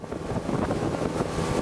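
A motorboat engine on a jungle river in Colombia drones steadily with water and wind noise around it, a low continuous rumble heard close by.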